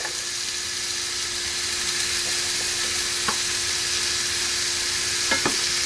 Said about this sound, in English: Alright, stirring that. That's on low as she can go.